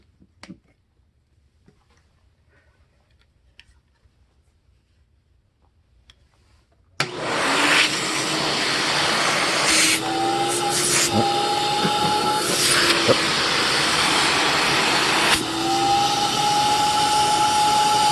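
A 40-year-old Electrolux Olympia One vacuum cleaner, with a nearly full bag, switches on after several seconds of near silence and then runs with a loud, steady whine and roar, with brief pitch shifts as the suction changes.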